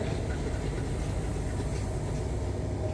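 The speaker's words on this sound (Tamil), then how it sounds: "எங்கால ட்ரெயின் போகுது பாருங்கள்" A train passing by in Jaffna, a steady loud low rumble of rolling wagons that holds evenly throughout, heard from trackside.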